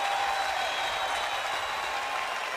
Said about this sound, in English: The crowd reacting.